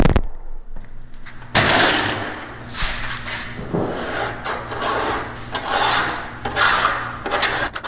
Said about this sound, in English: take basically a drywall rasp. And you can kind of go down through there and just kind of shave the big stuff off